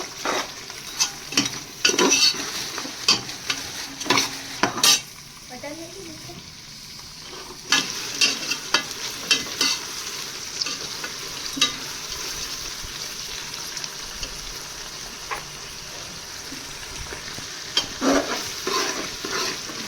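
Onions frying in a pan for a home-style biryani, with intermittent stirring scrapes and clatter over a low sizzle, fairly close, with occasional faint talk in the background.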